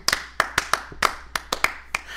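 A few people clapping for a horse, about a dozen sharp, uneven claps spread over two seconds, close and fairly loud with no talk.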